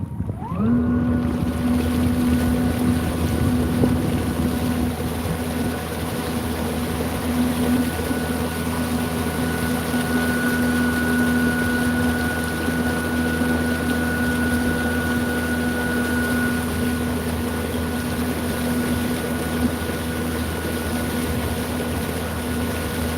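An electric kayak motor runs at wide open throttle on a lake, a steady, unbroken drone with a constant whine over water and wind noise that holds for the whole stretch.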